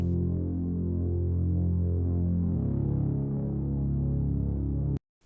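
A dense, buzzing synth pad with tube distortion holds a low, gritty chord with a warm, overdriven edge, shifting once midway before cutting off abruptly.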